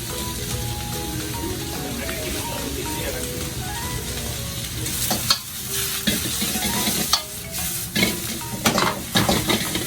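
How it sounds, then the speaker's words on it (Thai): Busy clatter of spatulas scraping and stirring in two woks at once at a Thai street food stall, with sizzling frying underneath and metallic clanks growing louder and more rhythmic toward the end. "ผัดสองกระทะยกแขนพร้อมกันเนี่ย"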